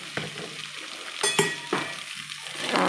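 A tempering is tossed into a pan of country chicken, giving a loud sizzle with a few sharp clatters and stirring scrapes over steady frying noise.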